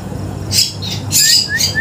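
A rescued young bird chirps while it is being fed, giving a few sharp, high, close cheeps in quick bursts over a low background rumble.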